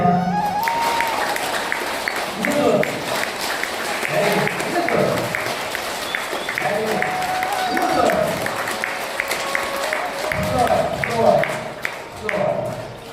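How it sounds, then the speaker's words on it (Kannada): An audience at a yoga training workshop claps together in steady rhythmic bursts, mixed with talk in the room. "ಚಪ್ಪಾಳೆ ತಡಿ"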